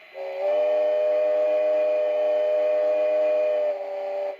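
A single long, steady steam whistle blast with a rich, chord-like tone from a PIKO B&O G-scale model steam locomotive's digital sound system, sounding close and clear with no other noise around it.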